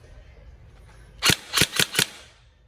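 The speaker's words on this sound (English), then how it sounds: "we're just going to demonstrate this working on single shot" A Tokyo Marui M4 URGi 11.5-inch NGRS airsoft electric gun fires four sharp single shots after a quiet pause, the first alone and the other three in quick, close succession.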